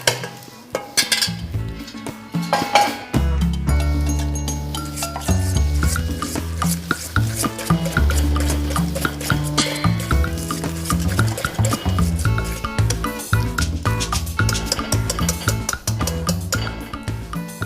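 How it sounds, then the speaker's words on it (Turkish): Stirring a hot hibeş mixture after a hot ingredient is added: steady scraping and rubbing of a utensil against a pan with frequent clinks and taps, close and fairly loud throughout, no talking. "yeterli pulverimizi yakmadan sıcak sıcak ilave edip karıştırıyoruz."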